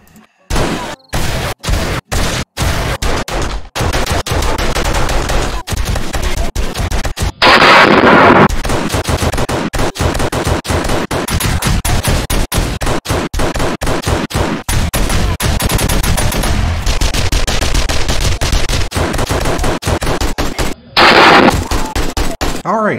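Gunfire from assorted weapons in 7 Days to Die Alpha 17, including a blunderbuss, fired at headshot and body-shot targets, sped up into a dense run of loud single shots and rapid bursts with brief gaps between weapons.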